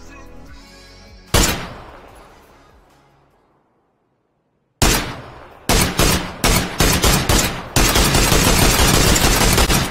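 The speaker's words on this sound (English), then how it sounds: "I'm gonna let a clip play so you guys could go ahead and hear how the gun sounds." Gunfire in PUBG: one loud shot rings out and fades into silence, then a fresh shot opens a string of sharp reports that run into a dense, continuous rapid burst.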